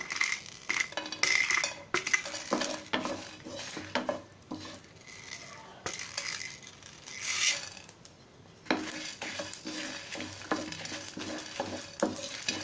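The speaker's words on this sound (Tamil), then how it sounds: "இப்போ ஒரு பேன் வச்சுட்டு ஆயில் எதுவுமே ஊற்ற வேண்டாம் நம்ம ட்ரை ரோஸ்ட் தான் பண்ண போகிறோம்" Red chillies and cumin are dry-roasted in a pan with no oil, stirred with close, steady scraping and rasping that pauses briefly partway through. No one speaks.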